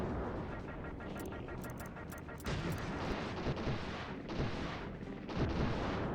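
Turret gunfire in the video game Blood rattles as rapid bursts of repeated shots with booming impacts, loud and dense, over continuous rumbling noise.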